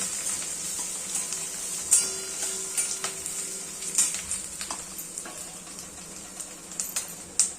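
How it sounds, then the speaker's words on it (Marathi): Peanuts with turmeric and salt fry in a pan for poha, giving a faint, steady sizzle with occasional light clicks and scrapes of stirring. No one speaks. "हे जे हळद आणि मीठ आहे ना हे पण आपण त्याला टाकून घेऊया छान फ्राय होऊ देऊया"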